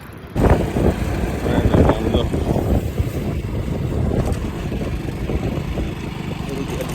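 A motorcycle engine starts up and runs steadily at close range, its broad rumble continuing as the bike pulls away along a road, with voices talking over it.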